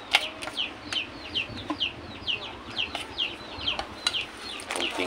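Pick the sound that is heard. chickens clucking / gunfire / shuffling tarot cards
chickens clucking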